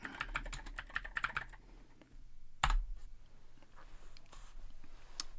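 Keys clatter on a computer keyboard as a command is typed into a terminal, a quick burst of close clicks, then a pause and one sharp louder keystroke, followed by sparse faint taps against a quiet room hum.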